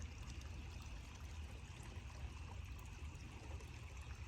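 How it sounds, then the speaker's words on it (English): A faint, steady rush of flowing river water, a soft continuous trickle and low murmur with no voices. "That's the flow of the water."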